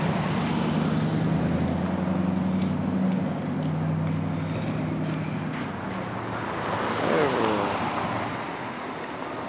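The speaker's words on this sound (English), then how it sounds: "Man, this is a serious blizzard." Strong blizzard wind roars and buffets the microphone outdoors in Grand Rapids, Michigan, a dense continuous rumble with traffic-like noise beneath it, while someone speaks briefly.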